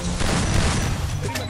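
Dense, continuous gunfire fills a cramped house in the Free Fire video game, loud and sustained with overlapping shots and booms, and a voice talks over it.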